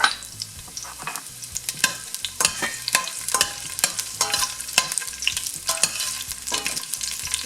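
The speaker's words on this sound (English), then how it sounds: "in a hot olive oil, we're going to add our garlic." Chunky, coarsely cut garlic hits hot olive oil in a pan for a Filipino sinigang soup, sizzling loudly and steadily while a utensil stirs and scrapes in repeated close clacks.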